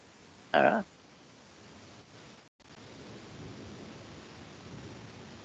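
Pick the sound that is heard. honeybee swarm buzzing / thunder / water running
thunder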